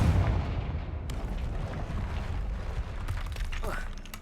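A Confringo fire spell blast in Hogwarts Legacy, a deep rumbling boom that rolls on under game ambience for a few seconds, with a brief whooshing flare near the end.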